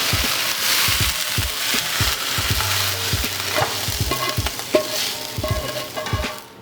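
Onions sizzle steadily in a hot pan, frying to a light crisp without burning, with frequent close clicks and scrapes of stirring over the continuous crackle and no voices.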